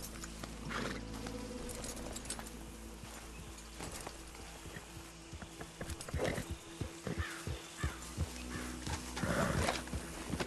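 Horse hooves in Red Dead Redemption 2 clop along in an irregular walking rhythm over a low ambient hum, growing more distinct and spaced toward the end.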